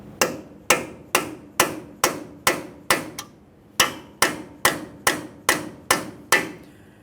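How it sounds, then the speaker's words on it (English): A hammer taps a punch on the axle shaft of a 2015-2020 Ford F-150 to free it from the wheel bearing: crisp, close metallic strikes in a steady rhythm, with one short pause partway through. "We'll go ahead and lightly tap on this, separating it from the wheel bearing located behind it."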